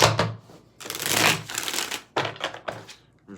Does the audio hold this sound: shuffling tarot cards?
yes